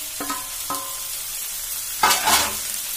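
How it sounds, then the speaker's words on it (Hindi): Paneer bhurji with peas and tomatoes is stirred in a hot pan on high heat, a steady sizzle punctuated by scraping spoon strokes, with a louder burst of stirring near the end; no one speaks. "अब इसे हम तेज आंच पे इसे जो है अच्छे से भून लेते हैं।"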